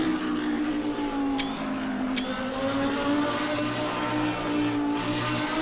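A race car in the Assetto Corsa Competizione racing game drives past, its engine a steady loud droning whine with shifting pitch that holds throughout, with no voices.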